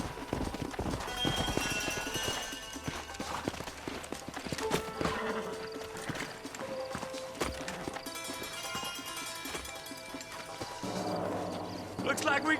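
Horse hooves clip-clopping in the Red Dead Redemption video game, rhythmic hoofbeats of several horses under a musical score, with a voice speaking over them and a brief whinny.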